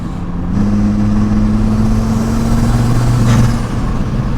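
A Ford Escort fitted with a 2.5-litre five-cylinder engine drives along under load, giving a loud, steady, droning hum with a held tone that climbs slightly before easing off.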